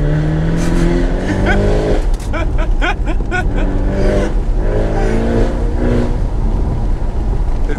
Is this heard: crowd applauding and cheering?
no